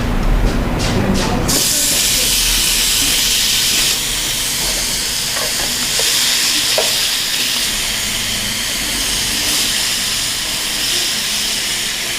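Marinated meat mixed with vegetables, grilled as Korean maekjeok, a loud continuous hiss and sizzle with a few crackling pops, opening with a brief burst of clatter.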